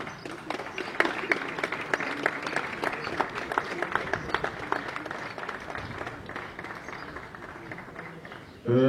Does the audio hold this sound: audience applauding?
yes